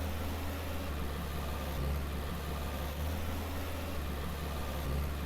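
The FV tractor in the farming game Farmer's Dynasty runs with a low, steady engine drone, a faint continuous rumble with slight dips in pitch and no talking over it.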